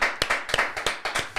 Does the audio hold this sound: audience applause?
yes